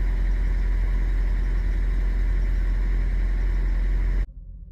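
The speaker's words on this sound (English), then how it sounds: "the truck is right there making the noise." A truck engine idles at a parking area beside a room, a steady loud low rumble with constant drone and no talk, cutting off abruptly near the end.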